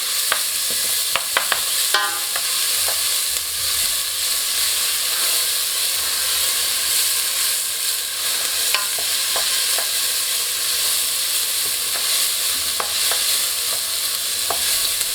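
Ingredients for masoor dal fry and sizzle steadily in a pan while being stirred, with a continuous hiss throughout and occasional light clinks of the spoon against the pan.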